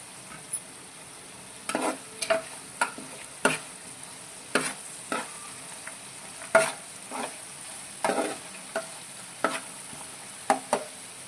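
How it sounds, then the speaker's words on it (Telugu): Tomato pieces fry in a pan, a steady sizzle running under repeated scraping strokes of a spoon that come every second or so, close and moderately loud with no voices. "ఈ టమాటా ముక్కలు ఒక సైడ్కి ఉన్నాయి కదండి, అలా అవి కూడా డైరెక్ట్గా ఫ్రై చేసేస్తున్నాను"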